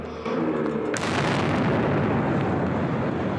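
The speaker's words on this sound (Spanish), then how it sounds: "2 explosiones en la línea de meta convirtieron la celebración en una tragedia." A sudden loud bomb blast at a marathon finish line erupts after a brief moment of quieter sound, followed by a sustained, rumbling roar of noise and debris that fills the rest of the clip.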